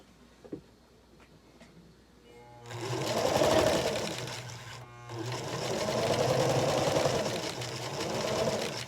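Sewing machine stitching tiny quilt blocks, a few soft clicks, then two loud steady bursts of fast motor whirring and needle rattle separated by a brief pause, close by with no talking.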